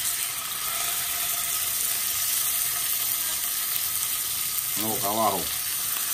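Mahi mahi fillets searing in a hot pan, a steady close sizzle running throughout, with a brief spoken phrase near the end.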